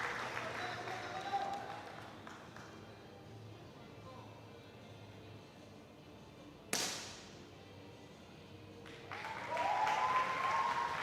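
Spectators at a junior women's 10 m air pistol final in New Delhi break into cheering and applause, a distant crowd swell rising near the end after a sharp crack midway, with quiet background hall noise between.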